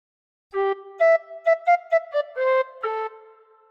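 Tin whistle plays a short phrase of We Wish You a Merry Christmas, about eight clear, breathy notes in a lilting rhythm, solo and fairly close.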